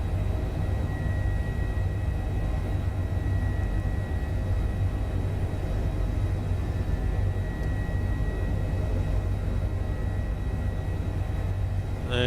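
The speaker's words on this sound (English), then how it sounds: "There's the Chinook." Chinook tandem-rotor helicopter flying by in Microsoft Flight Simulator, heard as a steady, loud, dense rotor and engine rumble that holds constant throughout with no talking.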